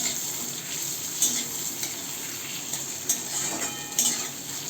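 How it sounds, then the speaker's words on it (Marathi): Tomatoes and chilies sauté in a pan with a soft, steady sizzle. A few light clinks of utensils sound at intervals, and no one speaks. "टोमॅटो पण आपल्याला इथं परतून घ्यायचे चांगले"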